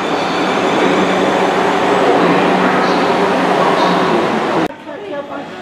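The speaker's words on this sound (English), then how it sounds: "arriving now is going to be the 1522 Southwest train service to" A South West Trains class 444 electric unit pulls into Bournemouth station on the London Waterloo to Weymouth service, a loud steady rumble and roar that cuts off abruptly near the end, with speech over it.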